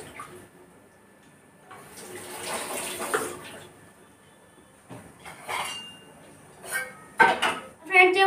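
Brinjals are washed under water before cutting, with intermittent splashing and running-water bursts mixed with clinks of a vessel, in short separate episodes.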